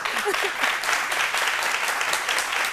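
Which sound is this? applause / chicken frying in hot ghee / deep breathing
applause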